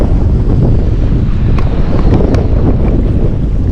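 Strong wind buffeting the microphone on a windy day of snapper fishing at the Port of Brisbane, a loud continuous low roar with faint water wash underneath and no talking.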